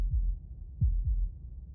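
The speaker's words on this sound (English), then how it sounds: "That was the sound of a heartbeat." Heartbeat sound effect from the video game Slay the Princess: three deep, muffled low thumps at irregular spacing, close and alone over a faint dark rumble.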